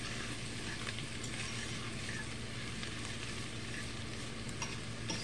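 Jalapeno, garlic and sliced hot links fry in a pan for cowboy charro beans, giving a dense, even, continuous sizzle heard up close with only faint stirring, and no voices.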